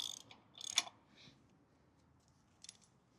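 A wrench clicks in quick ratcheting bursts while tightening the front wheel spindle of a KTM 1290 SuperAdventure motorcycle, faint and close, with a metallic clink, a pause, then a short final burst, no talking.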